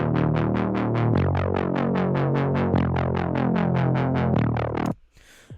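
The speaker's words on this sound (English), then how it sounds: "So it's a really, really super simple serum patch" Simple Serum synth patch for a dubstep track, with stacked unison oscillators and a filter cutoff driven by an LFO, giving a loud, steady run of rapid rhythmic wub pulses that stops abruptly near the end.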